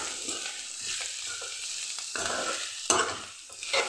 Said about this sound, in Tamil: இப்போ நல்லா கலந்து விட்டுக்கலாம் ஏன்னா மிளகு பொடி எல்லாமே பச்சையாக தான் போட்டுருக்குறோம்